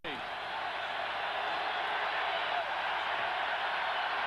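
A football stadium crowd roars steadily at an NFL game between the Jacksonville Jaguars and the Buffalo Bills in Buffalo in 1998, a dense, continuous wash of cheering that holds at a constant level throughout.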